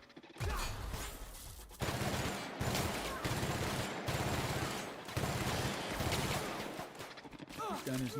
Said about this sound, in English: We got a mechanical sentry. Sweeping the area. Here they come! Don't run in front of the gun.